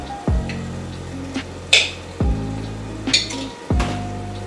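Sharp sizzling bursts from tomatoes spattering in a hot pan, with metallic clinks of a pan or utensil recurring every couple of seconds.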